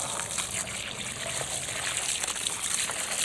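Water poured into a bowl set out in a summer morning kitchen garden, a steady close trickle and splash running continuously without pause.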